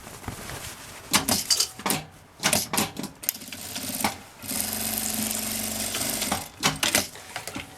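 Sewing machine stitching through fabric and batting with a backstitch, heard as several short bursts of rapid mechanical clatter followed by a longer steady run, close and fairly loud with no talk.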